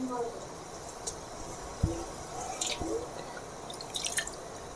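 Water drips from fresh chhena squeezed in a cloth over a pot while making rasgulla, a few scattered soft drips and squishes, quiet and close.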